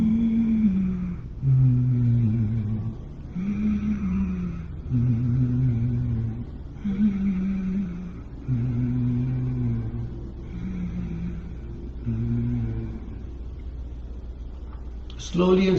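Forceful yoga breathing exercise for dysfunctional breathing, a series of about seven voiced, rhythmic breath pulses, each lasting roughly a second with short gaps, close and moderately loud.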